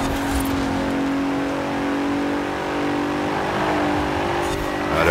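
A Ford Falcon's engine revs in Forza Horizon 4, a continuous loud, buzzing drone that holds steady with slight rises in pitch across the whole stretch, with no voices over it.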